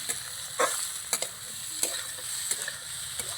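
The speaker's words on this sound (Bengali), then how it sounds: "আমচুর পাউডার দিয়ে দিলাম তো আমি নাড়িয়ে মিশিয়ে নেব" Teasel gourd frying with garam masala and amchur powder, stirred in a pan: a steady close sizzle broken by several sharp scraping stirs at irregular intervals, with no voices.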